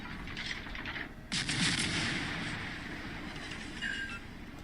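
Battleships under heavy shellfire in a World of Warships tournament match, with a sustained broadband roar of explosions and gunfire that swells loudly after a quieter opening and continues with ongoing rumble.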